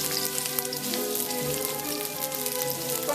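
Sliced onions frying in a pan for a Vietnamese beef noodle stir-fry, giving a steady, dense sizzle with crackling pops throughout, close and continuous with no talking.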